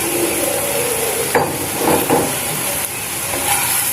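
Prawns frying and being stirred in a pot while cooking prawn biryani, giving a steady close sizzle and hiss with a few brief scraping stirs, no talking.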